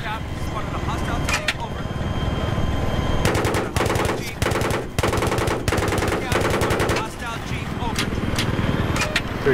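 In the Battlefield 3 video game, a helicopter's mounted machine gun fires in rapid, loud bursts of repeated shots over a constant engine drone.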